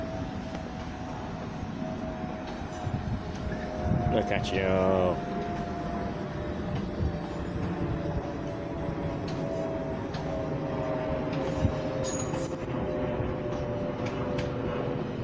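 A train rolls through Clapham Junction station with a steady, continuous rumble close by, while someone talks over it.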